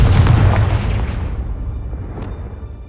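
A Confringo spell detonates in the video game Hogwarts Legacy, a single heavy booming explosion with a deep rumbling low end that decays over a few seconds into a fading roar.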